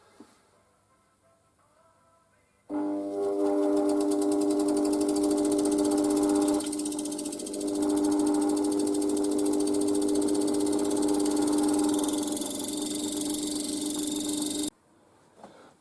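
A DIY rotary tumbler's electric motor starts up abruptly, runs loud and steady with a high whining hum and buzzing vibration for about twelve seconds, then cuts off into quiet.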